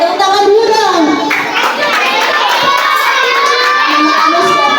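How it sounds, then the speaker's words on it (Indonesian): A group of schoolchildren claps their hands in a classroom, producing a dense burst of applause mixed with children's shouting and voices throughout. "Oke, tepuk tangan dulu dong."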